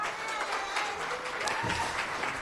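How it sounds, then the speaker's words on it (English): Audience applause at a climate summit panel on athlete advocacy, a steady wash of clapping from a conference crowd, moderately distant and continuous throughout without speech. "A big round of applause, please, for our lead in this panel discussion, Nicola Barr."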